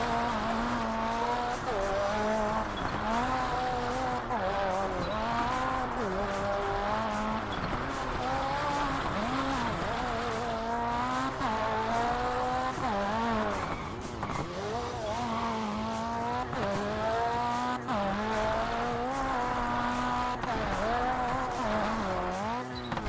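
An ice racing car in RalliSport Challenge 2 on Xbox, its engine revving continuously up and down through gear changes, loud and close throughout with faint tire noise on ice.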